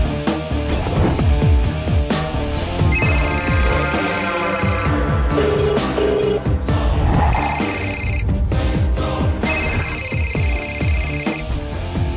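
A telephone rings in bursts of an electronic ringtone, heard inside a Telugu TV serial scene. The bursts repeat under a loud, dense music score and stand out clearly over it.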